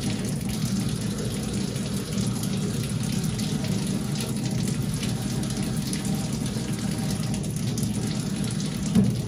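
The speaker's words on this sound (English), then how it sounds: "Okay, now I'm gonna wash it off." Running tap water streams steadily over a stained glass sun catcher as soldering flux is rinsed off, a continuous close splashing flow with no talk.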